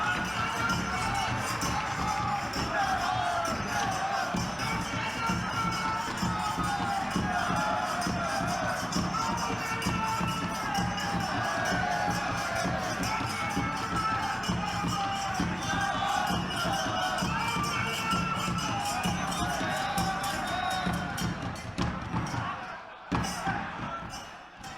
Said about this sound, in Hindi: तालियां बजा करके उनका अभिवादन करें, उन्हें जन्मदिन की बधाई दें